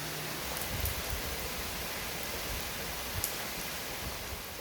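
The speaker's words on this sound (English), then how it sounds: "it's raining." Steady rain falls outdoors, a faint, even hiss of broadband patter with occasional slightly louder drips and no voices.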